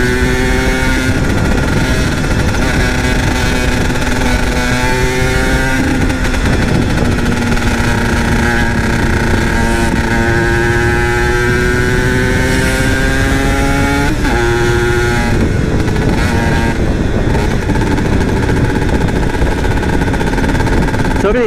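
A Yamaha TZM motorcycle engine revs hard and loud, pitch climbing and dropping as it shifts up through the gears on the road, continuous and close with wind noise.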